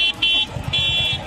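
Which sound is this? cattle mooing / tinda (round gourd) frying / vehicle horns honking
vehicle horns honking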